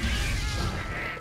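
A heavy hammer big swing in Monster Hunter Freedom Unite lands with a brief crunching smash and whoosh, loud and close, followed by a short rumbling tail.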